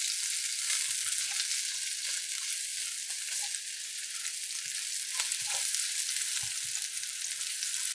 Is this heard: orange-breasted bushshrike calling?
no